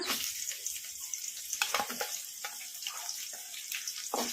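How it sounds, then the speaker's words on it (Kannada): Onions frying in a pan over a medium flame for kaju masala rice, a steady hiss and sizzle with scattered soft crackles and pops, alone without talk. "ಉಳ್ಳಾಗಡ್ಡಿ ಲೈಟ್ ಗೋಲ್ಡನ್ ಬ್ರೌನ್ ಕಲರ್ ಬರೋವರೆಗೂ ಫ್ರೈ ಮಾಡ್ಕೊಂಡ್ಬಿಡೋಣ"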